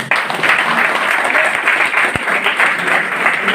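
An indoor audience at a business talk breaks into loud, dense applause that holds steady for a few seconds, with a single sharp knock partway through.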